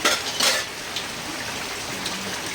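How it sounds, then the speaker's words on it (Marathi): Dishes and utensils being scrubbed outdoors in monsoon rain: a few close metallic clinks and scrapes near the start, then a steady hiss of rainfall continues alone. "चाललंय भांडी घासायचं पावसाळ्यात"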